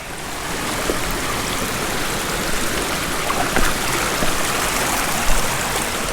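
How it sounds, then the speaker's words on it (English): A river flows steadily along a hiking trail in Shenandoah National Park in autumn, a continuous loud rushing wash of water close by with no talking. "Gonna cross this river here again."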